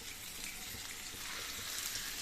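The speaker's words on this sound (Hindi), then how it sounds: "मीडियम फ्लेम पर रखकर हम कुक कर लेंगे।" Tandoori chicken in a pan over a medium flame sizzles with a steady, soft frying hiss, even and unbroken at close range.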